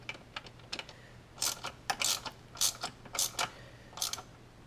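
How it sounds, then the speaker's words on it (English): Ratchet tightening throttle body bolts with a T30 socket on a Porsche Cayenne engine during a water pump job: bursts of close, crisp ratcheting clicks, several short runs separated by brief pauses. "now's a good time to tighten them with your T30 socket"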